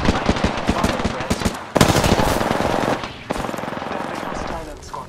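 Rapid automatic gunfire in the Apex Legends battle royale game, with loud, dense bursts of shots firing close by and continuing almost without a break.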